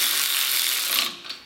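A hand ratchet loosens cylinder head bolts on a Kohler K301 engine, giving a short, close, rapid burst of clicking pawl teeth that stops abruptly.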